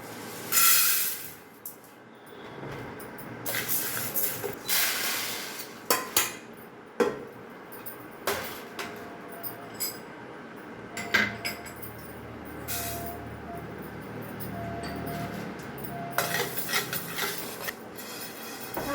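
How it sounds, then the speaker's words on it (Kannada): Chana dal dry-roasting in a pan, with metal spoon scrapes, clinks and rattling stirs coming in irregular bursts up close. "ಕಡಲೆ ಬೇಳೆ ಹಾಕ್ತೀನಿ ಚೆನ್ನಾಗಿ ಘಮ ಘಮ ಬರಂಗೆ ಹುರಿಬೇಕು"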